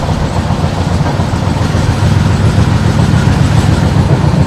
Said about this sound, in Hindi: अभी अपनी ट्रेन स्किप करने वाली है चर्लपल्ली रेलवे स्टेशन